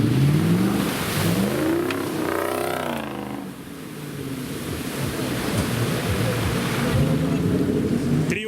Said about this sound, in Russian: Triumph как звучит, а? V8.